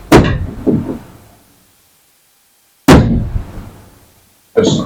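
Loose door lock part on a 1970 Chevrolet Monte Carlo dropping inside the door shell, two loud hollow metallic clunks a few seconds apart, each ringing briefly and fading, then a third knock at the end.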